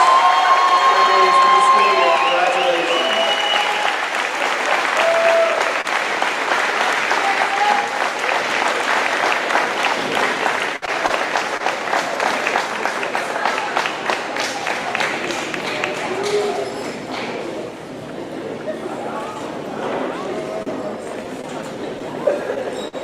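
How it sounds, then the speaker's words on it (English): An audience of students and families at a 2023 school awards ceremony applauds the 7th grade students, with sustained clapping and some cheering, loud at first and gradually thinning out over about twenty seconds. "let's give a big round of applause for our 7th grade students"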